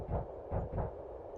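A heartbeat sound effect in an audio story thumps in a slow, soft double pulse, two muffled low beats close together and then a pause, alone and faint.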